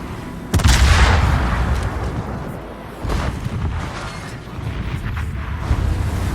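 The naval guns of the USS Bridgeport fire armor-piercing shells in World of Warships. One loud, close boom opens, then lighter thuds and rumbling follow at intervals, with no voices.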